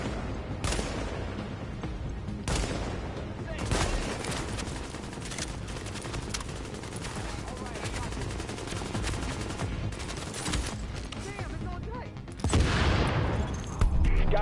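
Gunfire in the video game The Division, a dense mix of overlapping shots and bursts through a busy, continuous firefight, with a heavy blast near the end.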